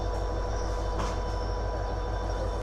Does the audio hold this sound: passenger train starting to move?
yes